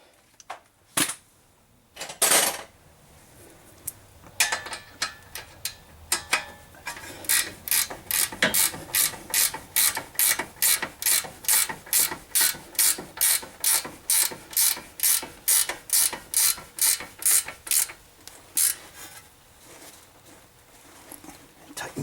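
Ratchet wrench clicking steadily as a nut is tightened on a front lower control arm of a 2004 Honda Pilot, a few scattered clanks first, then a long fast run of sharp, even clicks close by.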